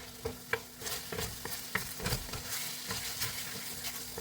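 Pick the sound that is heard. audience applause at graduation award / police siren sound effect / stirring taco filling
stirring taco filling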